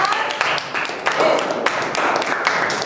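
An audience claps for both teams at a team challenge game, a steady patter of many hands that is loud and close and carries on for the full span, with some voices underneath.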